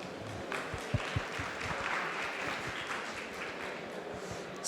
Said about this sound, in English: let's give a big round of applause to Francesco